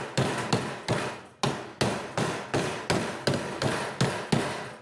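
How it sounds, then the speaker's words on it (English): Hammer blows on a sheet metal floorboard for a Ford F150, about a dozen loud, sharp strikes at a steady rhythm with brief ringing decays, close and alone. "let's take a hammer here on the back side."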